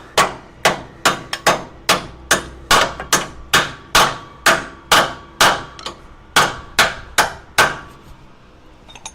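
A shop hammer strikes metal in a garage about sixteen times at a steady pace, each blow ringing out sharply and loudly before the next.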